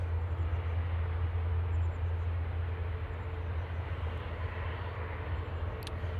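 An Etihad Boeing 777 taxis out at Manchester Airport with a steady low engine drone and broadband hiss, moderately distant and unbroken, with no voices.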